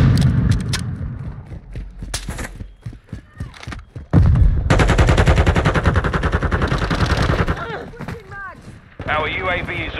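VEL 46 submachine gun fire in Call of Duty: Modern Warfare II: loud, rapid automatic bursts crackling close up, with shorter shots and game effects around them, and voices talking in between.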